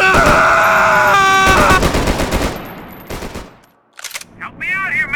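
Automatic gunfire and shots from the action video game Max Payne 3, loud bursts in the opening seconds mixed with game music and effects, then a brief lull before further clatter.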